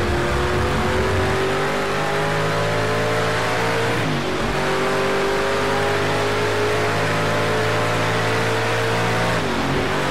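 Ford Mustang GT4 race car engine in the Project Cars 2 racing game, a loud, steady mid-pitched roar that rises and falls through gear changes, with a brief dip around four seconds, heard alone.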